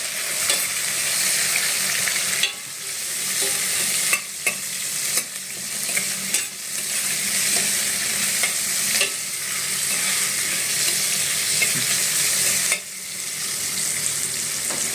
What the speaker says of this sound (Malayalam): കല്ലുപ്പ് ഇളക്കുന്നു.